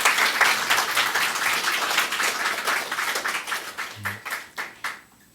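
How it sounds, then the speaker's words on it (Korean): An audience at a church revival meeting breaks into applause, a dense burst of clapping that thins into scattered, fading claps over a few seconds. "박수 많이 쳐주세요."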